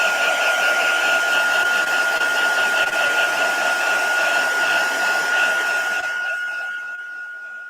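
A hair dryer blows steadily and loudly on a freshly glued craft project in a studio, a constant whirring roar that runs for about six seconds before winding down and fading at the end.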